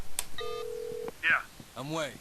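Mobile phone ringing in the Sleeping Dogs video game, a short electronic ring with a steady tone and chirps, near and fairly quiet, with brief voice-like sounds around it.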